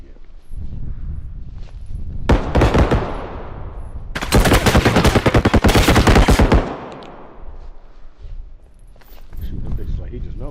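Gunfire in the video game Bodycam: two loud, dense bursts of rapid automatic shots, the second longer and sustained, separated by brief gaps, with quieter game ambience and a faint voice around them.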